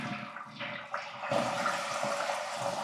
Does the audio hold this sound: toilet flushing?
yes